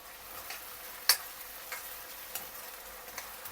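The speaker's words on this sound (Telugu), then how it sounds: "నేను ఇప్పుడు అల్లం వెల్లుల్లి పేస్ట్ వేస్తున్నా" Ginger garlic paste fries with onions in a pan for chicken kurma, a soft steady sizzle with faint ticking crackles and one sharp clink near the start.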